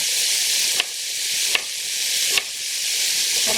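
Onions and garlic frying in a pan: a loud, steady sizzle with three sharp spoon scrapes or stirs at roughly even intervals, close up and with no talking.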